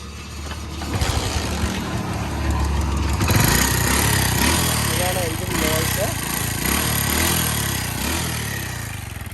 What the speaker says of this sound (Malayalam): നമുക്ക് എഞ്ചിൻ നോയ്സ് ഒന്ന് കേട്ട് നോക്കാം എങ്ങനെയാണെന്ന്